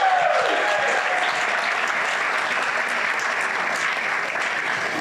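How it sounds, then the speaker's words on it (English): Sustained audience applause fills a luncheon hall at a Pride event honoring aging services, a dense, steady wash of clapping from many hands, loud and even throughout without letup. "Big round of applause for her."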